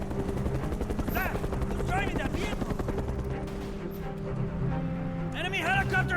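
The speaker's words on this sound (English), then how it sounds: "Enemy helicopter sighted!" Enemy helicopter in a video game, a steady rotor drone layered under game music and bursts of gunfire, with a voice briefly heard over the mix.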